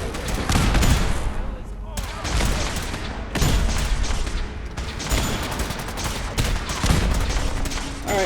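Turret gunfire in Fallout 4 inside a settlement, dense automatic bursts with heavy booming impacts running almost nonstop, loud and close, with occasional voices mixed in.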